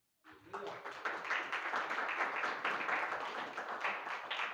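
A congregation claps steadily at a Friday fasting prayer meeting, a dense, continuous wash of many hands that starts abruptly and holds at a fairly even loudness throughout.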